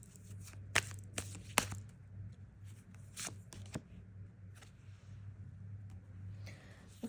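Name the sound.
tarot cards being handled and drawn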